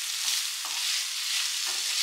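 Prawns and broccoli stir-fried in a pan, a continuous bright sizzle with a few soft scraping strokes of the spatula, close and steady with no talking.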